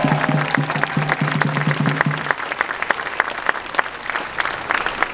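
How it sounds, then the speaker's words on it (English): A crowd at a San Francisco reparations rally claps hands in a loud, continuous burst, with a voice chanting over the opening seconds before the clapping carries on alone. "Come on, clap your hands, everybody."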